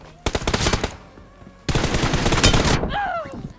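Rapid automatic gunfire from PUBG Mobile, played on a Samsung Galaxy J7 Prime or iPhone 6 Plus, comes as two loud close bursts, a short one and then a longer sustained one, followed by a brief ringing tail.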